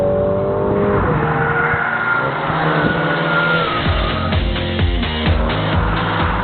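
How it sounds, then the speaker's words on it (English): MINI John Cooper Works accelerating hard, its exhaust note rising through the revs with audible gear changes and crackling pops near the end, loud and close with no talking. "that fun exhaust note isn't an optional extra"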